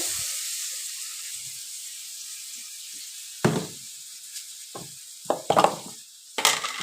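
Potatoes dropped into hot oil in a wok sizzle with a steady hiss, broken by several sharp crackling bursts and spatters near the end.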